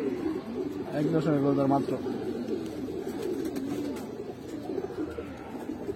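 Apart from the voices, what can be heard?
pigeons cooing, Giribaz and other breeds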